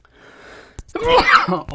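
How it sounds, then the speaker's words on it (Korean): A single sharp human sneeze indoors, with a soft intake of breath, a brief catch, then a loud, close burst that trails off. "재채기."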